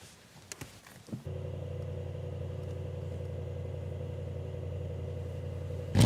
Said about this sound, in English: let me turn the car on so you can see